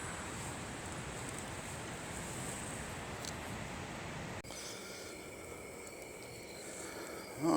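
Strong wind roars steadily around a hammock campsite, a dense broadband rush that shifts tone partway through, with buffeting against the microphone and no talking.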